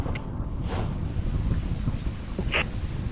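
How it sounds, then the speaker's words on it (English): Monsoon storm on a Huachuca Mountains hiking trail, soft steady rain hiss with a low distant thunder rumble, faint and brief, no talking. "here comes the rain."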